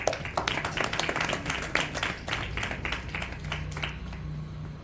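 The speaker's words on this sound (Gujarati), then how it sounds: "એને સિસ્ટમ માટે પણ એકવાર તાળી પાડ દો બંધુઓ" An audience at a satsang assembly in Nikol claps together, a dense patter of many hands that stays close and lively and then thins toward the end.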